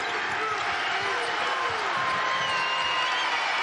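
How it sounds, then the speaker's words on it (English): A home crowd roars in an NC State basketball arena during a game against Pittsburgh, a steady loud wash of cheering that holds without pause, with a commentator speaking over it. "The crowd as engaged as it's been all night."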